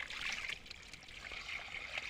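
Cold water gushes steadily from a pipe connection deep in a forest, a continuous hissing splash with a slight rise and fall, fairly quiet and without voices.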